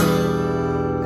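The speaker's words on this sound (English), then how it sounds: "An electric guitar does this." A sustained electric guitar chord rings out, dense and steady, with a faint fluttering tremble throughout, fairly loud and close.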